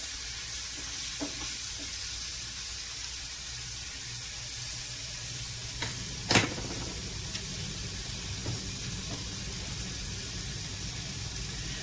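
Sausage browns in a pan with a steady, soft hiss of frying and an occasional faint scrape, one brief louder clack midway, no one speaking.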